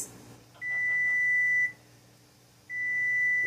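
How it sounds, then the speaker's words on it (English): Two long, steady electronic beeps from a kitchen timer during pear butter canning, each lasting about a second, separated by a short pause, over a faint background hum. "Set the timer for 10 minutes."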